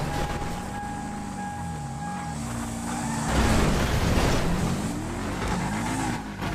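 A car in a role-play video game drives steadily with engine tone rising and falling through gear shifts, getting louder and rougher midway as it speeds up, with a faint steady tone underneath.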